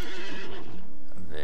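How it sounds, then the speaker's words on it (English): A pony in the video game LOTRO, the Pony of the Gap, gives a short, close, wavering whinny that lasts about a second, with no one speaking over it. "This is the Pony of the Gap."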